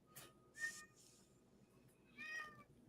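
Two distinct cat meows, the first short and the second longer, standing out from a quiet background during a sports talk show recording, with no speech over them.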